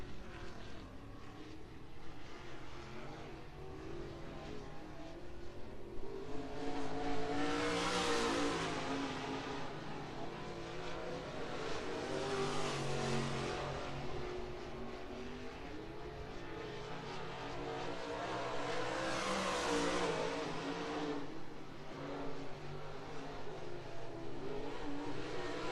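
Race cars lapping Muskingum County Speedway in Dresden, Ohio, engines droning at a distance and swelling twice into louder revving passes as cars come around, then fading again, with no talking over the steady track noise.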